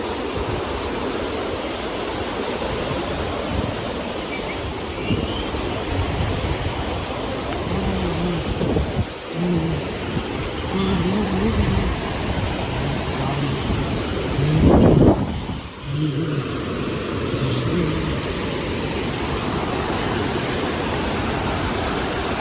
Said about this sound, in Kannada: ನೀರು ಎಷ್ಟು ಚೆನ್ನಾಗಿ ದುಮ್ಮಿಕ್ಕಿ ಹರಿತಾ ಇದೆ